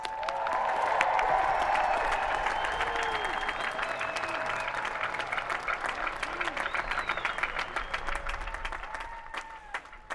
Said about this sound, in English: Let us all give a huge round of applause for all of our graduates.